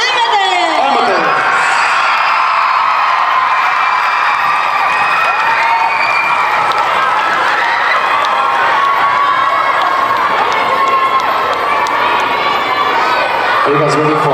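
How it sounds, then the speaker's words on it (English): A large crowd at a Hmong New Year junior varsity dance competition in Milwaukee cheers, whoops and claps continuously, with children's high shouts and whistles rising through the loud, steady roar. "Let's give another round of applause for Amethyst."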